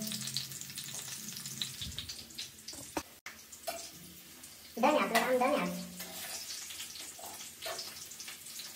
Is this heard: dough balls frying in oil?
yes